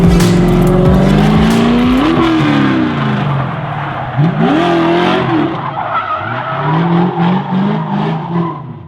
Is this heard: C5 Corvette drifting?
yes